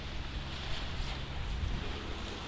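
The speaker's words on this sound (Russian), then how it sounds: "Волны там плещутся." Sea waves splash and wash in a canal outlet at the Balaklava embankment, a broad rushing surge with gusty wind noise, steady and moderately loud without talk.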